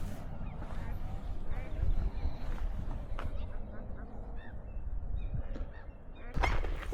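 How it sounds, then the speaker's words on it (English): Geese at Sognsvann lake in Oslo honk in short bursts across several seconds, over a steady rush of outdoor noise, with a louder burst near the end. "More goose."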